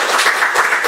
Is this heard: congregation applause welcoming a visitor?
yes